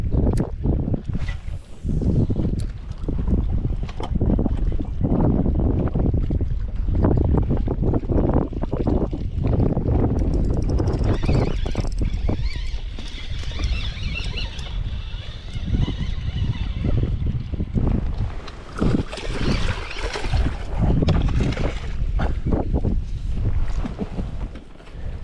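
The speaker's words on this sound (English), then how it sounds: "The wind." Strong wind buffeting a microphone on a fishing boat out on Lake Cumberland on a rainy day, a loud continuous roar and rumble with water wash and no voices.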